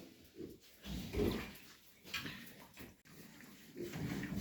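Low grunts and snuffling from several piglets, close by and continuous, with rustling and shuffling underneath.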